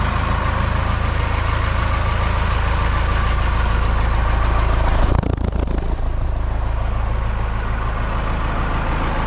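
A Cummins diesel engine swapped into a Ford Bronco with a 3-inch lift runs steadily with a loud, rough, knocking idle; about halfway through it briefly blips or revs, then settles back into the same heavy rumble.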